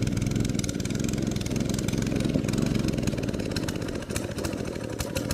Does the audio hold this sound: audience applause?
no